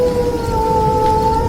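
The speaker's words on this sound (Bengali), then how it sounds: "চারপাশে শুধুই হাহাকার করা বাতাস আর শিয়ালের ডাক" A jackal howls on a stormy night along a lonely rural road, a sustained, steady tonal wail held for the whole moment over a low rumble of wind and rain.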